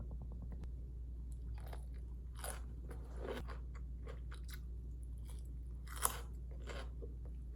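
Crisp crunching bites and chewing of cherry tomatoes, cucumber and boiled cabbage with ssamjang, close and fairly quiet over a steady low hum, several distinct crunches spread across the clip.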